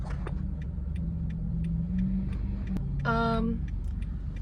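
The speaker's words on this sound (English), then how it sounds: "my car is shaking." A car rumbles low and steadily while driving, with a shaking vibration, soft ticking and a brief higher whine partway through. The interior is otherwise quiet.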